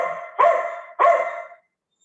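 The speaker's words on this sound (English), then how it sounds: "Sorry for my dog, there's a kitten outside, I apologize." A dog barks twice, two sharp loud barks about half a second apart, close by indoors, set off by a kitten outside, with no talk over it.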